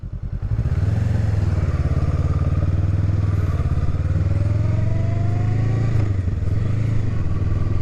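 A 2023 Honda Rebel 500 SE motorcycle is ridden on an open road, its engine droning loud and steady with a low rumbling throb and light wind noise, without talking.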